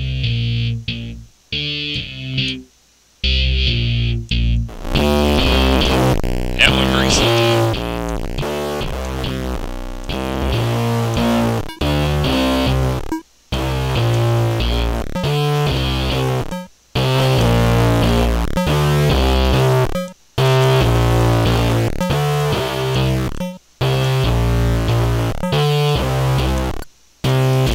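Audio processed through a distortion effect in LMMS plays as a grungy, buzzing musical loop with abrupt stops and restarts, loud and continuous, with a brief spoken word near the start.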